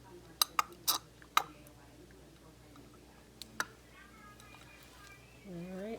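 Dye mixture is stirred in a plastic container during a liquid extraction, a handful of sharp clinking taps early on and a couple later, fairly faint, before a voice starts speaking.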